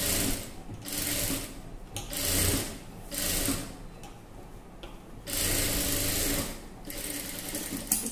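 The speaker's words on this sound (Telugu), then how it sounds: "ఇదిగోండి ఇలా స్టిచింగ్ చేసుకోవాలి" Sewing machine stitching blouse lining cloth, running in close, loud bursts of rapid mechanical whirring separated by short pauses, with faint speech in between.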